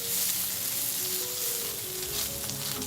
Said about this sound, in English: add the cut prawns and sauté the prawns together with the dried chilli